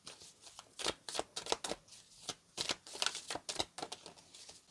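Tarot cards being shuffled in quick riffling bursts, a rapid papery flutter repeating in irregular clusters, close and fairly quiet with no talking.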